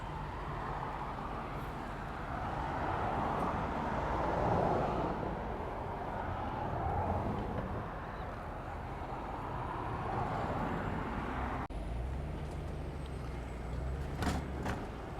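A car passes on a street near water main construction, a broad swelling roadway whoosh that rises and fades, moderately distant, followed by a few sharp clanks.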